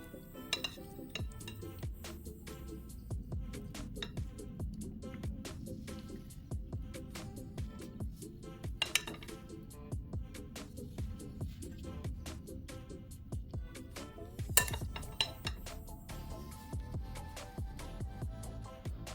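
A spoon scoops shrimp filling for puff pies out of a bowl, giving soft repeated clinks and scrapes against the dish, close and quiet, with a few sharper clinks scattered through.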